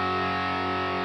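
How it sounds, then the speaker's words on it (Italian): Electric guitar run through a distortion pedal placed before a Deluxe amp model, holding a thick, sustained distorted tone with steady hiss for about a second, loud and alone. "un distorsore qui davanti al deluxe e lo attivo"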